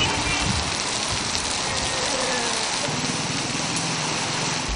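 Rain falls steadily in Karachi, a dense, even hiss of drops pattering on surfaces, fairly loud and continuous with no clear voices.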